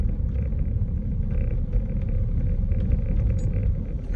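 A car rolls slowly at about 11 miles an hour through the Greater Greenspoint neighborhood of Houston, Texas, heard from inside as a steady, loud low engine and road rumble with no breaks.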